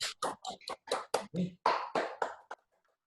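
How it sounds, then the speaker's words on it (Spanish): Applause for Emiliano at the close of an academic talk, a small number of hands clapping in separate, distinct claps that thin out and stop. "le pido a todos los presentes que le demos un aplauso a Emiliano"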